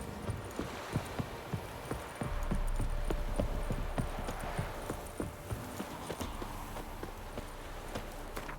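Horses' hooves clip-clopping in The Witcher 3 video game, a steady walking rhythm of distinct hoof strikes under ambient game sound, moderately close.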